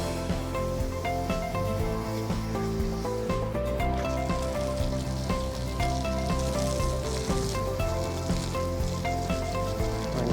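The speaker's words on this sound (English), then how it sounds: "Now I'm going to give them a really good rinse." Water sprays and hisses steadily across solar panels during a rinse, a continuous close-up wash without pauses.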